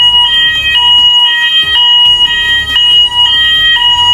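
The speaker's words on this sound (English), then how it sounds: "Ah, the alarm's gone off." A loud, piercing fire alarm beeps in a steady repeating pattern of high tones, close by and filling the space.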